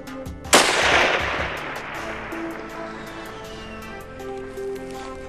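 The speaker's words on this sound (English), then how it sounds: "We're going to fire our second round, see where it hits." A single loud rifle shot at a long-range shooting session, a sharp crack followed by a long rolling echo that fades over several seconds outdoors.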